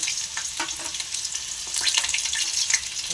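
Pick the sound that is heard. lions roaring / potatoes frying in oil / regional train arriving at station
potatoes frying in oil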